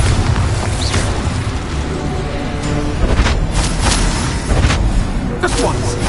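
Spell blasts boom and burst in quick succession in the Hogwarts Legacy video game, loud dense explosions layered over steady combat noise and a shouting voice.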